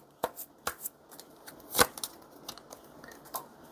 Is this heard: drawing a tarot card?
yes